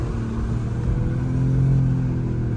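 Naturally aspirated 4.5-litre car engine accelerating from inside the cabin, a steady loud low rumble with rising harmonic tones throughout, no talk.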